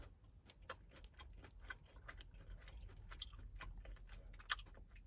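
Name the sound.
chewing a crunchy Pure Protein chocolate chip bar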